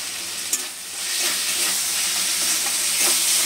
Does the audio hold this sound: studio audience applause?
no